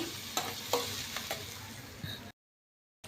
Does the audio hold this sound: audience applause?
no